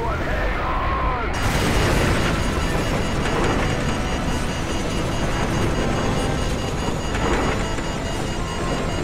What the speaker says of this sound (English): What appears to be an explosion of epic proportions.